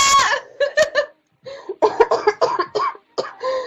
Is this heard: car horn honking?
no